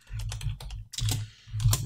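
Rapid typing on a computer keyboard, close and clattery, in two bursts of quick keystrokes separated by a brief pause.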